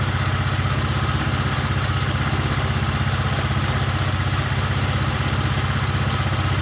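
A Honda Beat ESP scooter engine idles while warming up, a steady close-up putter with fast even pulses holding constant and loud throughout, no voices.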